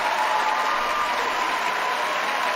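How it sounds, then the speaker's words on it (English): Steady, dense applause from a large crowd in a chamber at the State of the Union address, sustained and even throughout. "Cue the clapping."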